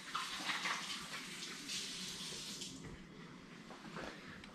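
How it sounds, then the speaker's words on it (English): Running tap water pours steadily and fairly loud while hands are washed at a sink during a grilled cobia cooking session, a continuous splashing rush with no talk. "I'm gonna wash my hands real quick."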